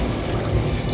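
Water pours steadily from a container into a cooking pot in a home kitchen, a continuous close splashing flow with no pauses.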